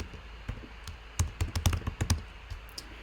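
Typing on a computer keyboard into a Zoom chat box, heard close and alone as a quick, uneven run of sharp key taps that clusters into a dense burst and then trails off into a few last presses.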